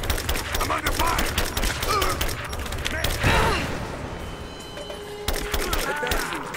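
A video game firefight fills the air with loud, rapid volleys of gunshots, sharp cracks stacking into dense bursts with a short lull, while voices speak over the shooting.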